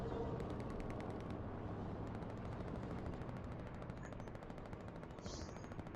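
Dense gunfire rattles through a team video game battle, rapid automatic bursts overlapping almost without pause at a steady level throughout.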